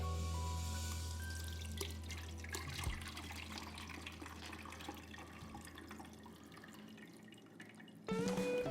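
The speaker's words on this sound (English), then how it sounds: "I'm gonna strain it and separate the juice from the fat." Smoked oxtail broth is poured through a strainer to separate the juice from the fat, with a soft, close trickle and dripping of liquid that fades toward the end before a brief louder burst.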